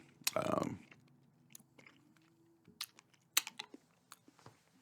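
Jolly Rancher hard candy crunches and clicks close to the mic, with one loud crunch followed by sparse sharp ticks and mouth sounds, quiet between bites.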